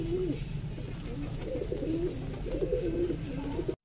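Pigeons coo steadily and close by as grain is scattered for a hungry flock, the soft burbling calls overlapping continuously with no talk.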